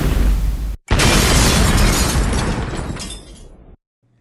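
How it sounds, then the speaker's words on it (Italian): A loud explosion sound effect in a comedy sketch bursts after a brief cut to silence, a roaring, crackling blast that slowly tapers over a few seconds and then stops abruptly. "Grazie, mi hai salvato dall'esplosione!"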